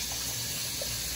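Water runs from a faucet in a steady, close rushing hiss that stays constant throughout, with no speech.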